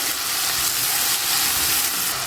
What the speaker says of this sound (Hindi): 2 अदद मैंने टमाटर लिए हैं और इसे मैंने फाइन चॉप कर लिया, ये डाल देंगे।